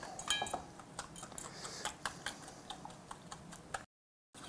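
A whisk clicking rapidly against a bowl while mixing a jalapeno citrus glaze, a close, quick metallic ticking rhythm that stops abruptly near the end.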